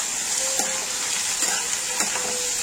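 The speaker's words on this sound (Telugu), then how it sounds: "దాని తర్వాత ఆనియన్ని బాగా బ్రౌన్ అయినట్టుగా అది ఫ్రై చేస్తామండి." Onion frying in a pan for a tomato curry, a steady close sizzle and hiss with a few light stirring scrapes, no talk.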